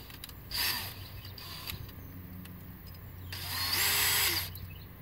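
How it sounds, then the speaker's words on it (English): A power drill bores a hole during a rainwater collection system build in Texas, with two short bursts of whirring, the second longer and louder, amid quiet background creaks. "I'm going to drill a hole"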